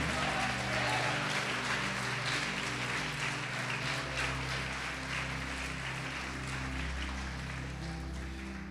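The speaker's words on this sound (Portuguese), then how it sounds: "pode aplaudir o Senhor Jesus Cristo" Congregation applauding during a church sermon, a steady dense wash of clapping throughout with a low hum or music bed beneath, no clear speech over it.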